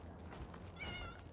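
A Khajiit cat meows in an Elder Scrolls game: a single clear, drawn-out meow near the end of the clip, heard over a low game ambience with no talk.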